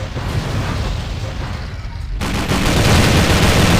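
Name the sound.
gunfire in a video game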